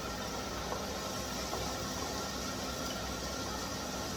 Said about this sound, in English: You can hear the oil was ready as those veg are sizzling.